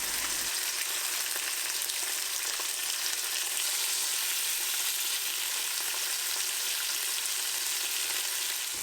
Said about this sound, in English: the first step is going to be to brown the chicken on both sides